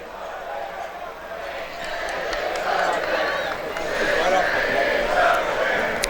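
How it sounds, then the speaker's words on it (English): Football crowd of Dirigo Union supporters at a Portland Hearts of Pine versus Halifax Wanderers match jeering a player, a steady broad roar of many voices that swells louder toward the end, with commentary heard over it. "They are now booing every time he touches the ball."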